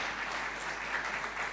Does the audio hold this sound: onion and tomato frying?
no